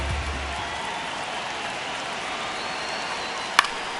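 A stadium crowd in the MLB The Show baseball video game keeps up a steady, dense roar through a tense ninth inning, with one brief sharp crack near the end.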